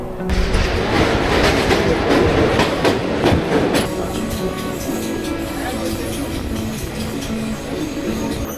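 A passenger train, the Kanchenjunga Express, rumbles and clatters steadily along the rails, heard loud and close from inside a carriage, with faint voices in the background.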